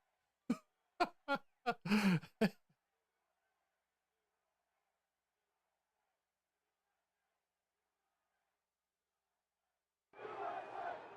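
A crowd at a political rally near the Capitol, played back from a recording, opens with several sharp shouted bursts, falls into long silence, then returns as a broad crowd roar at the end.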